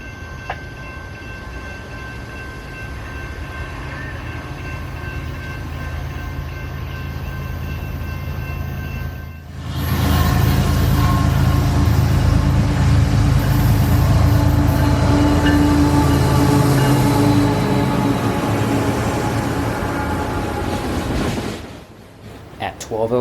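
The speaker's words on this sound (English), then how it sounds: "we would hear our southbound loaded coal train" A loaded southbound coal train passes close by with a loud, sustained rumble and clatter of rolling cars that swells suddenly, holds steady, then fades near the end.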